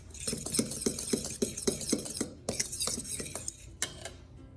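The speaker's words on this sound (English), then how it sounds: "So I'm going to mix this around just to make sure that's evenly mixed." A utensil scrapes and clinks against a bowl in a rhythmic series of strokes while vegan whole wheat pancake batter is mixed, close and crisp, slowing to a few final taps.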